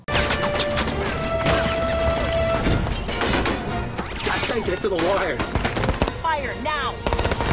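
Gunfire in a secret-agent action film, with a man pinned down under a hail of bullets: loud, dense bursts of rapid shots and crashing impacts, layered with whooshes and effects, continuous across the scene.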